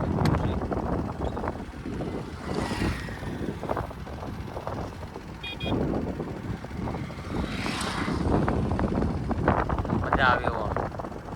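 Steady wind buffeting the microphone while riding an Activa scooter, a continuous rushing roar with gusts, with voices talking over it.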